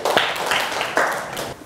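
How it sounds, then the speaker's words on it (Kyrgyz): A school class in a Kyrgyz classroom claps after a lesson, two short bursts of applause under a teacher's voice. "Кол чабып коебуз."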